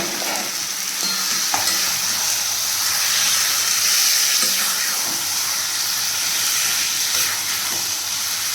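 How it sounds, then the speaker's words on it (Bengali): Pieces of mutton hit hot oil in a pan and fry with a steady, close sizzle and hiss that runs the whole time, with a few soft stirring knocks and no talking. "যখন তেলটা ছাড়তে শুরু করছে মানে আমার হয়ে গেছে, এবার আমি এতে মাংসটা দিয়ে দিলাম।"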